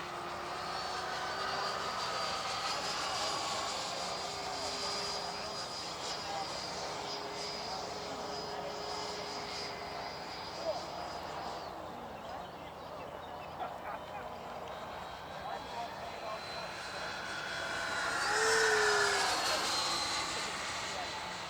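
A Stinger 90 model jet flies in a demonstration at a field, its turbine giving a steady whine that rises and falls in pitch as it passes, swelling louder near the end, with speech heard at moments.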